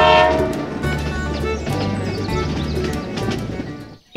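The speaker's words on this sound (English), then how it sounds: "Whoa, here it is. The train continues its journey." A miniature train runs along a rail track beside a small DIY concrete overpass bridge, a steady rumbling clatter of wheels with a horn-like tone at the start, fairly loud and close before cutting off abruptly.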